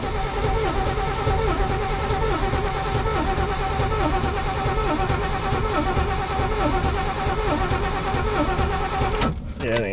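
The engine of a Squarebody Chevy truck, not run in about 20 years, idles loudly and unevenly with a low pulsing drone close by, ending in a brief rattle.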